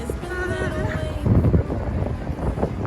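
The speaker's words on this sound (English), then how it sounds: "It's windy out here." Gusty wind buffets the microphone in low rumbling bursts, with faint tonal sounds early on and brief bits of nearby voice.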